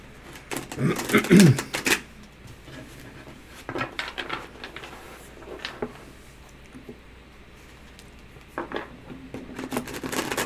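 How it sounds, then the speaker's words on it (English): Tarot cards being shuffled by hand close to a microphone, bursts of riffling and soft slaps of the deck in several short bouts separated by quieter pauses. "watching me shuffle"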